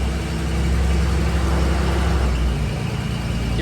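A 1944 Dodge WC56 command car idles cold while warming up, its engine giving a steady, close, rumbling drone that holds evenly throughout with no one talking.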